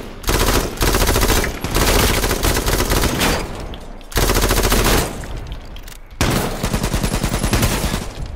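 A chain gun fires in long, loud sustained bursts of rapid rattling shots in a video game, broken by a couple of brief pauses between the strings of fire.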